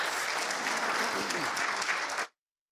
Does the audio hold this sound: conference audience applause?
yes